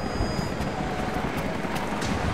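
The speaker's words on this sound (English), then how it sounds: "Jacob, helicopters are headed your way" Helicopters approaching in the Rise of the Tomb Raider video game, a steady rumbling engine and rotor drone with faint rhythmic beating, heard at moderate volume with no speech over it.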